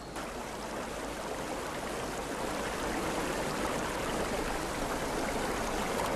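A river stream flows steadily where wool is being rinsed in the high mountains, a continuous close-up rush of running water with no voices.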